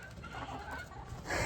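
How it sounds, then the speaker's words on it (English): Chickens clucking softly nearby, with low murmuring calls and a louder burst toward the end. "I'm letting the chickens out if you're wondering what I'm doing."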